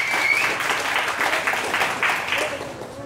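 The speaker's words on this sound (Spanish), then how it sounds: "A ver, Fede, un aplauso para la misteriosa" Brief applause from the crowd at a boxing event in San Juan del Río, a short burst of clapping mixed with cheering as a voice talks over it.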